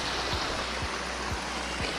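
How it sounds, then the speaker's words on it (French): Soft, steady rush of flowing water from a small mountain river being crossed on the GR 11 trail in the Spanish Pyrenees, with faint low thumps underneath, quiet and continuous. "On traverse la petite rivière."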